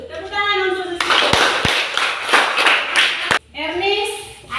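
Children in a classroom clap together in a burst of applause lasting a few seconds, with a few sharp slaps standing out, framed by a teacher and children speaking before and after.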